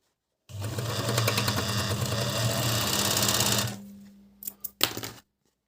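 An Agat DonLock 54D6 overlocker runs a four-thread seam in one steady, rapid mechanical whir for about three seconds, then stops, followed by a few short clicks and bursts as the machine is handled.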